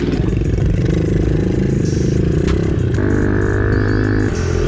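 Loud pit bike engine running close by with a stock exhaust, a buzzing mechanical drone with pitch that rises and shifts as the throttle changes.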